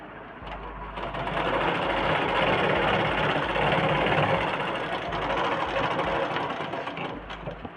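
An electric sewing machine runs steadily while stitching a straight seam through blouse fabric, a loud continuous mechanical whir with a low motor hum, starting about a second in and holding nearly unbroken to the end.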